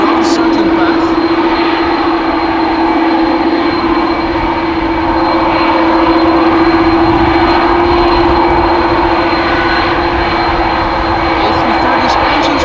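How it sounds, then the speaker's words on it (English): Airbus A330 jet engines roar loud and steady at the threshold of runway 18 left at Amsterdam Schiphol on a windy day, a continuous close rumble and whine that fills the whole stretch. "A330's engines are overpowering everything over here a little."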